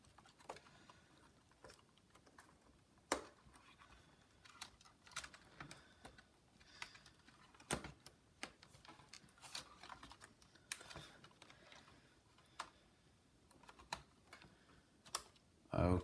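Dell Latitude E1545 laptop keyboard being fitted back into place, heard as scattered close clicks, taps and sharp knocks at irregular intervals with a louder clatter at the end, over a quiet background.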